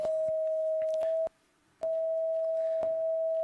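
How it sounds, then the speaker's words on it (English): A steady pure electronic tone from an electronic eye color sensor, sounding its note for purple, holds at one pitch with a short gap in the middle and faint clicks, close and alone without speech. "this is the sound of purple."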